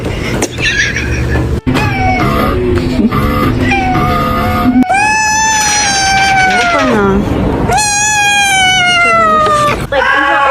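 A pet cat meows loudly and repeatedly up close, drawn-out wailing calls rising and falling over about ten seconds, with no talk over them.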